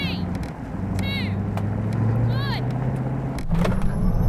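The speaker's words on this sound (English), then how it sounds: "we floor the throttle and just see who makes it to the quarter mile first" A Koenigsegg Agera RS and a Tesla Model X Plaid launching in a quarter-mile drag race, a steady rising engine drone with a gear change near the end, under a voice speaking over it.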